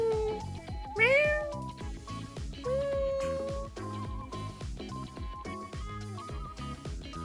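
A person imitates cat meows with a string of rising and falling mewing calls, some drawn out and some short, close and fairly loud over a steady background.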